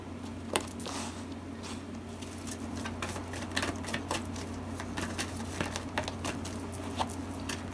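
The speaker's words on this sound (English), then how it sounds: "you guys can fast forward through me shuffling if you want to" Tarot cards shuffled by hand in a quick run of soft, papery riffles and slaps close by, the rhythm uneven over a low steady hum, with no talking.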